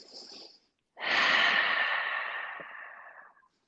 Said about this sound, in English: Ooh, yeah, the yawns.